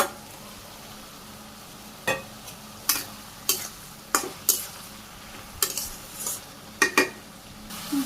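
Vegetables frying in oil in a Bangladeshi home kitchen sizzle softly while a utensil stirs them, scraping the pan in sharp, irregular strokes every second or so, close and with no voices.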